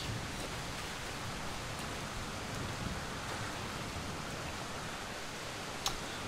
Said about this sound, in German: Regen, wie herrlich.